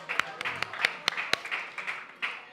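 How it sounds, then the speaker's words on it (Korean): Scattered claps from a small group at a church children's Bible quiz: a few sharp, irregular hand claps close by, with a low murmur of voices underneath. "박수"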